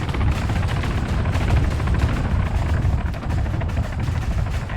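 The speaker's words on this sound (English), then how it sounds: "those choppers are trying to engage that boat" Military helicopters fire on a boat in the game Arma 3, with a steady rotor drone under dense, rapid bursts of gunfire, loud and continuous throughout.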